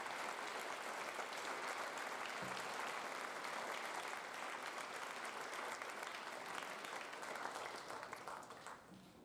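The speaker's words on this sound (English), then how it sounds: "Please give them a round of applause." Audience applause at a Veterans Day school assembly, a steady dense wash of many hands clapping throughout, near and full, tapering off slightly at the end, with no talk over it.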